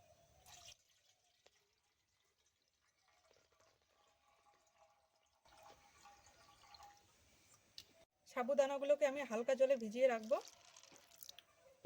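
Sago pearls being washed by hand in water, with quiet scattered drips and sloshing followed by a louder, closer stretch of swishing and splashing near the end.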